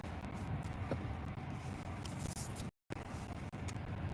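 Inside a car driving to work in Florida, a low steady road rumble and engine hum with faint rustles and a brief dropout, fairly quiet and without talk.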